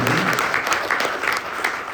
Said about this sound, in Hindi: जरा जोरदार ताली तो मोदी के लिए